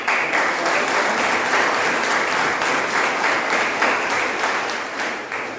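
Sustained applause from an audience at a college event for International Girl Child Day, welcoming guests onto the stage; dense steady clapping throughout, fairly loud, tapering slightly at the end.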